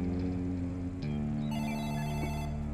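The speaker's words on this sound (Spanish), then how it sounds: "¿Un teléfono?" Telephone ringing steadily with a sustained electronic tone, a clear chiming pitch change midway and overlapping bell-like tones, fairly quiet against a background with no talk.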